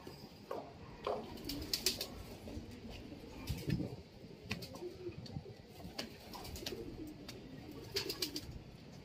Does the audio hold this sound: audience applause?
no